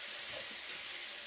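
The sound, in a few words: leeks added to a hot pan, sizzling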